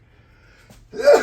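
A single sharp sneeze bursts out close by near the end, following a second of near silence with faint low background hum.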